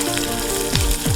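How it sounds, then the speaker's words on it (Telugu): Onions fry in a pan for a bottle gourd and chana dal stew, giving a brief, close, steady sizzle with a couple of low thumps. "సరే, కొంచెం ఉల్లిపాయలు వేయాలి. అది వేగిపోయాక నెక్స్ట్ వచ్చి టమాటోలు వేగనివ్వండి."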